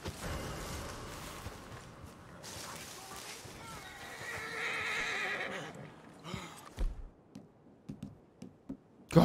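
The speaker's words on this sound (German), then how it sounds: "Mein Gott, beruhig dich, Pferd." A horse in Red Dead Redemption 2 gives a long, loud whinny, followed by snorts and a run of hoof clip-clops fading into game ambience.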